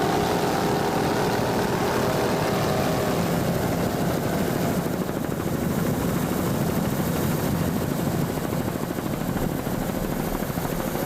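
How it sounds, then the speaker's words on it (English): Offshore racing powerboat engines roaring steadily at a Great South Bay race, a dense, continuous loud drone with no pauses, heard from a distance over open water. "There you can hear the throttles going down"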